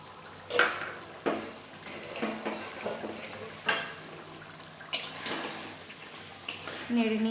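Tilapia coated in coriander paste being stirred in a pan: scraping and stirring strokes recur every second or so over a soft sizzle, with a voice talking alongside.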